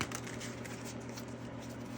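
Quiet, rapid papery riffling and patter of tarot cards being shuffled, steady and close, with no talking.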